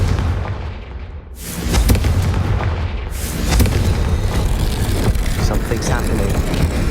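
A Confringo fire spell goes off in Hogwarts Legacy as a heavy booming blast, followed by rumbling explosions and game effects that continue under a dense, loud mix of dark corridor ambience.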